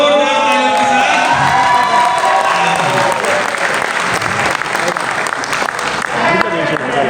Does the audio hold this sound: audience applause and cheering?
yes